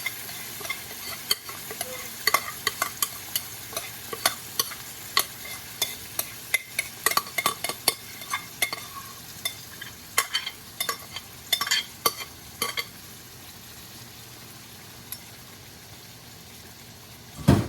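Beef short ribs sizzling in a pot over medium heat, a low steady fry broken by repeated sharp clinks and scrapes of stirring, close up, with no talking.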